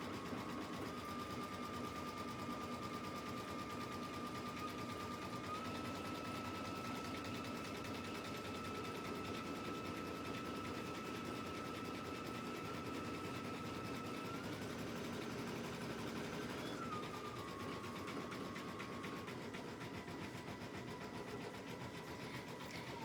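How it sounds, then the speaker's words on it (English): A Baby Lock embroidery machine stitches a name in purple thread for a patch, giving off a steady, close mechanical whir with a faint high tone. It runs alone, with no talk, throughout. "So I'm going to let it stitch my name out."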